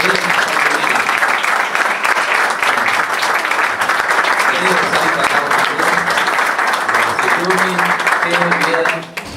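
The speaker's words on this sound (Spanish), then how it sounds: "Un aplauso a la mamá y a la bebé" Steady applause from a church congregation welcoming a mother and her baby girl, loud and continuous for about nine seconds with voices mixed in, cutting off near the end.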